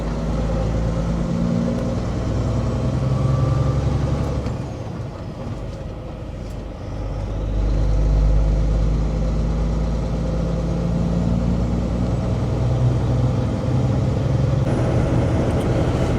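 A truck cruising along an Australian highway toward Geraldton, heard as a steady, loud low engine and road drone from inside the cab that runs unbroken throughout with only slight swells, no talk over it.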